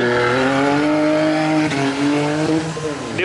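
Cars launch hard in a street drag race, a Volkswagen Amarok V6 with nitrous among them, engines screaming and climbing in pitch under sustained loud roar, with a tire squeal near the end.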